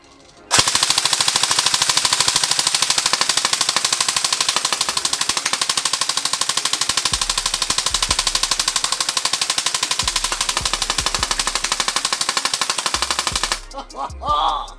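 A JG AKS-74U electric blowback airsoft gun fires a long continuous full-auto burst, emptying its magazine with a rapid, loud mechanical rattle that runs steadily for about thirteen seconds before stopping abruptly.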